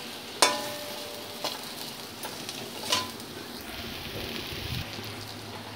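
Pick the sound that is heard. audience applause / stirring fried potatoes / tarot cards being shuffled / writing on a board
stirring fried potatoes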